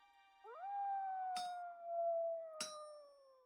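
Wolves in the Vintage Story survival game give a long sustained howl, rising then slowly falling, with two sharp metallic clinks cutting through it; fairly quiet, no talk.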